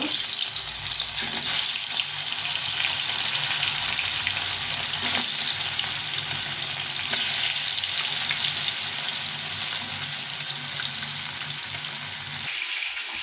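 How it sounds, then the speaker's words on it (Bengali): Fish frying in a pan gives a constant, close, crackling sizzle with occasional louder pops. The sound stays even throughout and no one talks. "এখন মাছগুলো যে মেখে নিয়েছি ভেজে নেব"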